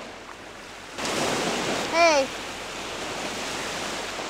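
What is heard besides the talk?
waves at the beach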